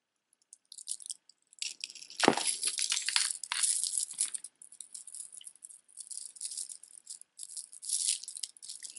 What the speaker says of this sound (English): these are plastic beads. It's like a multi-strand necklace.